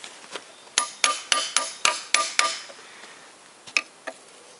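Sharp metallic hammer strikes on the crankshaft and bearings of a GM Ecotec engine ring out in a quick series of about eight blows, then two more after a pause, close and clear.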